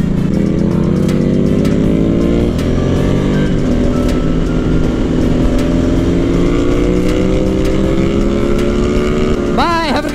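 A motorcycle ride heard from the rider's position, with a loud steady engine drone and gently shifting pitch as the bike cruises, plus wind roar and a quick rev near the end.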